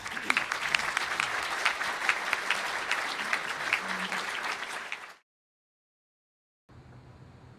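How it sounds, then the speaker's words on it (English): An audience at an Illinois pension reform event claps steadily and densely for about five seconds. Silence follows, then faint background noise. "How about a big round of applause?"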